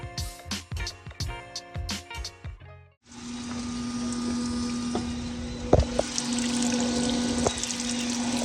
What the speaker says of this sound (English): just using one of my oil catch cans to help me catch some of this fuel that's still coming out